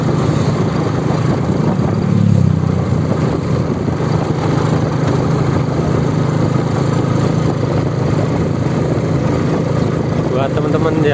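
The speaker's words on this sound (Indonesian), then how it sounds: "Baru ketemu mobil ya, sangat jarang mobil melintas, kebanyakan motor." A car passes along a quiet rural village road in Wonogiri, Central Java, its engine a steady broadband rumble that swells slightly mid-way and holds loud and close throughout, with no voices.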